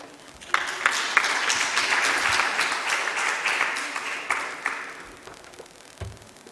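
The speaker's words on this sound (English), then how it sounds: "Another round of applause for an all-female team." Audience applause at a business event for an all-female team, a dense sustained round of clapping lasting several seconds, fairly close, tapering off near the end with a few scattered claps.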